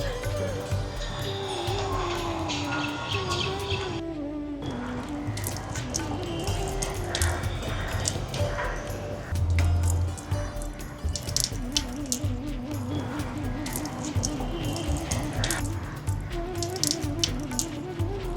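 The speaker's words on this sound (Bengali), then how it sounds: "ছুরিটাও ধুয়ে নিই" A kitchen tap runs steadily while a knife is rinsed under it, a continuous close rush of water with some splashing, and a person's voice and background music heard faintly over it.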